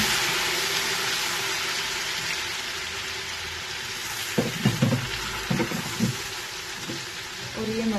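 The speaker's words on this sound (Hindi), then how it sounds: "अभी मैं इसमें ये टमाटर डालूंगी।" Tomatoes hit browned ginger-garlic paste in a pan for Pakistani beef biryani, giving a loud, steady sizzle with a few clattering bumps of stirring midway.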